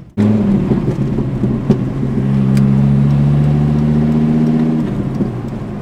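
A BMW 335i with an M54 engine runs close by, a sustained loud exhaust drone with slight shifts in pitch and small burbling crackles.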